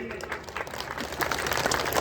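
A crowd claps at a farmers' protest rally in Dimni against the agriculture minister, a faint, steady patter of many hands that swells slightly toward the end, with a voice speaking over it.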